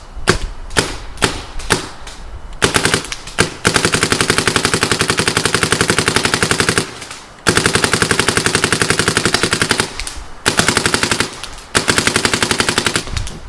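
Paintball markers, an F7, an A-5 and an Abomb, firing outdoors in the cold, with a few single shots followed by long rapid-fire strings of sharp, loud pops, close by.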